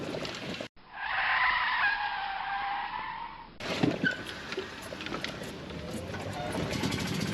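A car skids with a long, loud tire screech of about three seconds before nearly crashing, followed by engine and road noise.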